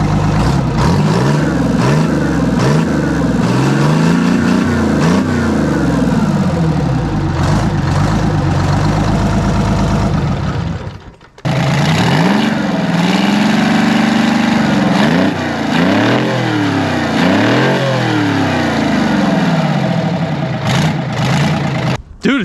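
A Detroit Diesel 6V71 engine runs loud and close. It idles with sweeping pitch changes from governor hunting, cuts out briefly around the middle, then restarts and settles into a smoother idle.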